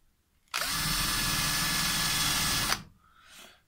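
An electric drill bores holes through the top of a wooden bird feeder, one loud, close, steady whine lasting about two seconds before cutting off.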